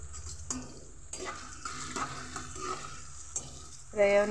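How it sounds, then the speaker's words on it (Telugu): Chopped onion pieces fry in hot oil in a pan, a soft continuous sizzle with the scrape and clink of a spoon stirring now and then, fairly faint and close, ending in a brief louder metallic scrape. "ఇప్పుడు చూడండి ఆయిల్ వేడెక్కింది కదండి, ఉల్లిపాయ ముక్కలు వేసి ఫ్రై చేసుకుందాం."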